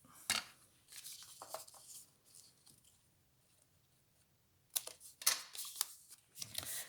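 Scissors snipping paper while making a folded flap card, a few short crisp cuts near the start and a quicker cluster of snips toward the end, with quiet handling in between.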